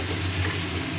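Mutton braises in a pan with a dense, steady sizzle and hiss, brief and continuous.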